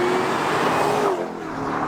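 A car flies by on a city street, a loud close engine roar that peaks and then quickly drops away as it passes.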